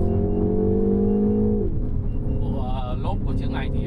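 A 2025 Mini Cooper S engine accelerating on a drive at Ba Vì, steady rising engine tone heard from inside the car that drops with a gear change, then continues beneath someone talking.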